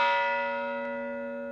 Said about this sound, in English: the bell you will hear is from the USS Arizona, one of 2 bells salvaged from the sunken ship.